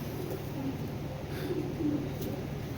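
Soft, low cooing from Pakistani Giribaz high-flyer pigeons of an old breed, steady and muffled against a constant background hum, with no speech over it.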